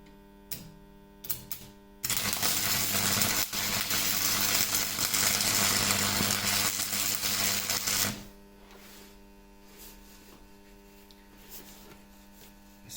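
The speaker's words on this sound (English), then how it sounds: "It's one of these stick type welders." Stick welder arcing as it welds a nut onto a Jaguar engine part, a loud, steady crackling buzz lasting about six seconds before cutting off to quieter shop hum.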